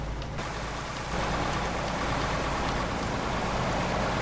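Rain falls in Euro Truck Simulator 2 as a dense, continuous hiss of drops in a desert setting, steady and loud throughout, with a low truck engine rumble beneath.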